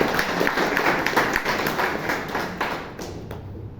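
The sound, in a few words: audience applause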